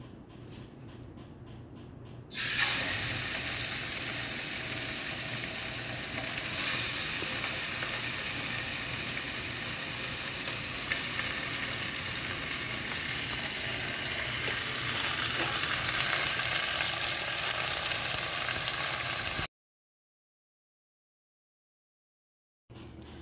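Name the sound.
meat searing in oil in heavy bottom pot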